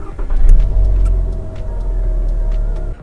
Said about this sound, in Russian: Включаем пускозарядное устройство и заводим автомобиль